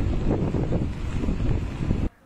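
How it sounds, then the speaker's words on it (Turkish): Strong wind buffets the microphone on the Karasu coast of Sakarya during a storm with heavy rain and an overflowing sea, a loud continuous roar that cuts off abruptly near the end. "Sakarya'nın Karasu ilçesinde şiddetli rüzgar ve sağanak yağış sebebiyle deniz taştı."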